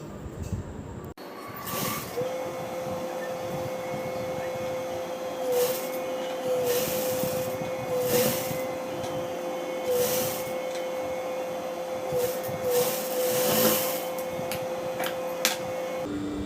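A sewing machine stitches the back neck lining of a chudidar with a steady mechanical whir, and faint rhythmic ticks recur throughout over a low hiss.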